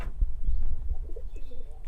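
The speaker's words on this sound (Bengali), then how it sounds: "তারপরে আমার কাছে ঢাকাইয়া কবুতর আছে" Soft, low Dhakaiya pigeon coos murmur close by, a few rounded calls repeating against faint background noise.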